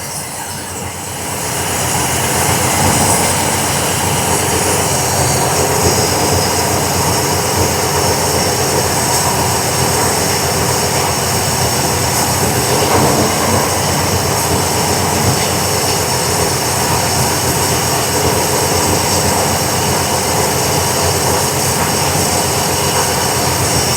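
A 1973 Camaro engine with FiTech fuel injection starts up and runs at a loud, steady idle, a continuous broadband roar that holds even for the whole stretch.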